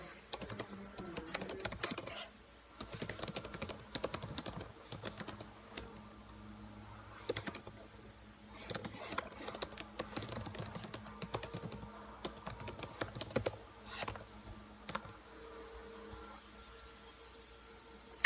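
Fingers type on a computer keyboard in quick bursts of soft clicking keystrokes separated by short pauses, close and fairly quiet, with no talking.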